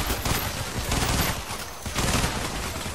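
Sniper rifle gunfire and other weapons in the heist game Payday: The Heist at a poolside barbecue level, a dense, continuous wash of rapid shots and blasts filling the whole stretch, loud and close.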